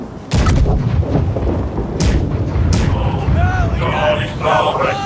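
Ship's left side cannons firing in the naval game Blackwake, a loud barrage of booming shots landing in quick succession over a constant rumble of battle, with faint voices in the background.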